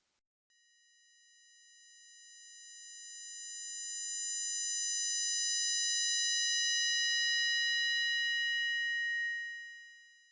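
A synthesized inharmonic tone built from widely spaced, frequency-shifted partials, with no audible fundamental, starts abruptly after a short silence and holds as a bright, thin, steady shimmer for about nine seconds before fading out.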